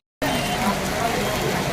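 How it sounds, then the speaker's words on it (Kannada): Rain falls in a village, a steady broadband wash of moderate loudness that starts abruptly after a brief silence and continues unbroken, with no one talking. "ನೋಡಿ ಫ್ರೆಂಡ್ಸ್, ಹೇಗೆ ಬರ್ತದೆ ಮಳೆ ನಮ್ಮೂರಲ್ಲಿ ಅಂತ."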